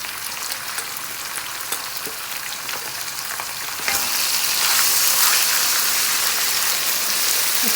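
Minced keema frying in a pan with onion, garlic and ginger gives a steady, loud sizzle that swells suddenly halfway through and holds as a dense, bright hiss, with faint stirring clicks underneath.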